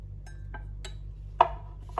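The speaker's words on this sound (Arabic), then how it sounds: "ثم نقوم بعدها بوضع ملعقة صغيرة من هذا الخليط" Small spoonfuls of a cold-remedy mixture tapped into a cup, a few light clinks and taps spaced apart with one sharper knock, close and quiet over a low steady hum.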